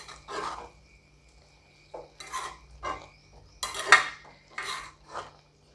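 Spatula scraping and clinking against a pan as moringa leaves are stirred while they cook for a fry, in a series of separate bursts of fairly quiet scraping with short pauses between them and no talk.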